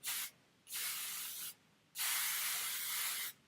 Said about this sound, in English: then I'm going to take my hairspray.